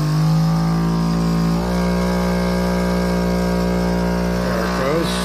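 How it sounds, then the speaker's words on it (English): A Gerard Morin pump powering a fan and a standard bulb runs with a loud, steady motor hum and rich harmonic drone that shifts pitch slightly after a second or so, continuous throughout. "Let me turn the pump on."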